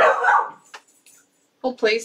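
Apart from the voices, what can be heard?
dog barking in the background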